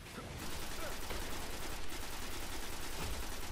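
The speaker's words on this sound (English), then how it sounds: "Why are you shooting me?" Sustained gunfire from the Destiny video game, a dense continuous rattle of automatic shots filling the whole stretch at steady loudness, with a faint voice underneath.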